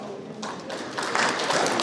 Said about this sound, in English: Please a round of applause to receive here Mr. Konate Issa